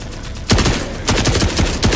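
Rapid bursts of gunfire in a video game, loud and close, with several sharp shots clustered into volleys at roughly half-second intervals, alone without talk.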